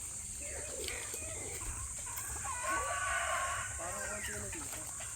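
Chickens cluck and call inside a netted chicken coop somewhere around Taal Lake in Batangas, heard over constant outdoor background noise and insect hiss, with scattered bird calls rising in the middle of the clip.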